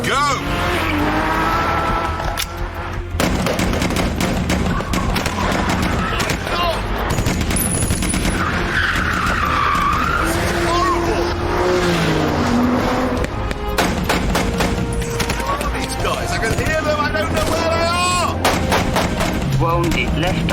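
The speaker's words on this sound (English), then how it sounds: "drive each of the cars in turn right round the village, while an elite 8-man sniper squad from the Irish Guards tries to shoot me" A car is driven hard around a village while an eight-man Irish Guards sniper squad fires on it: engine revving and tire squeal mix with repeated gunshot cracks, loud and busy throughout, with speech over the top.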